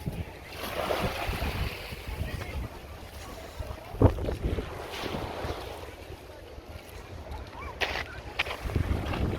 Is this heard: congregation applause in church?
no